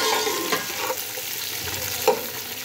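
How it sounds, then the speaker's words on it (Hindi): Finely chopped small onions frying in oil with fenugreek leaves make a steady close sizzle, with a couple of soft stirring scrapes in the pan and no speech. "तो अब हम इसमें डालते हैं बारीक कटी हुई 2 छोटी प्याज, और इसको कर लेते हैं फ्राई।"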